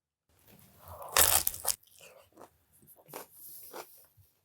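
Crispy baked broccoli with a Parmesan crust, dipped in sauce and bitten: one loud, close crunch, then softer chewing crunches fading out.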